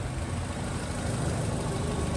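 A used automatic car idles up close, giving a steady, even low rumble with no voices over it.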